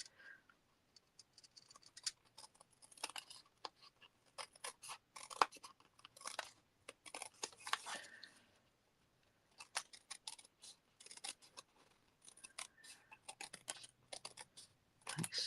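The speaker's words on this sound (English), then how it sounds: "So let's just use our scissors again." Scissors snip through card stock scraps in quick bursts of crisp, close cuts separated by short pauses, fairly faint and with no talking.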